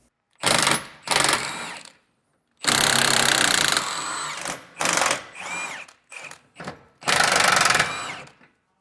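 Loud metallic hammering and power-tool bursts under a 2023 Jayco Jay Flight travel trailer while bolts are driven out during a MORryde ALLTREK 4000 equalizer install, several long harsh bursts separated by short pauses.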